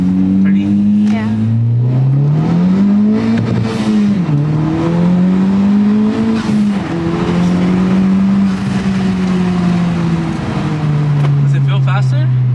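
A Honda Civic Type-R pulls hard through the gears, its engine note climbing loud and steady, dipping briefly at each shift and rising again from inside the cabin, with excited voices talking over it.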